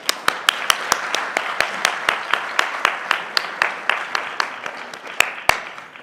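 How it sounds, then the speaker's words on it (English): Conference attendees applaud the session speakers at a leadership papers event, with a thin spread of clapping and distinct individual hand claps beating in a steady rhythm, moderately close. "Can I please ask for a round of applause"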